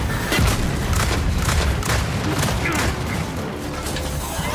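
Gunfire in the video game Gears 5 rattles in rapid bursts with booming impacts, loud and continuous throughout.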